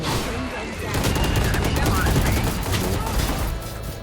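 Rapid gunfire bursts from the Valorant shooter game rattle loudly and continuously, mixed with other in-game effects, while players talk over the action.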